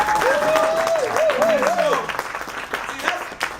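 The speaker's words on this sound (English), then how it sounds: "Give them a round of applause" A live audience claps and cheers briefly, loud at first and then thinning out, with a voice riding over the top and more talk as the applause fades.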